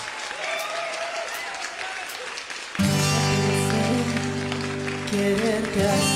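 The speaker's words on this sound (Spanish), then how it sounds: "Suena el aplauso, la terraza." Applause at La Terraza bar restaurant during a live entertainment program, starting as scattered clapping before music with a strong low beat enters and carries the rest of the way.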